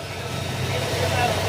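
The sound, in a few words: Honda Click 125 scooter engine running with cold engine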